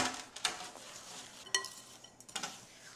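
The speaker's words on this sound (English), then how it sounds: "Try to mix the wet sides all in with the dry side." A spoon stirs a homemade dishwasher pod mixture, working wet ingredients into dry in a bowl, giving a few quiet gritty scrapes and light clinks over a faint background hiss.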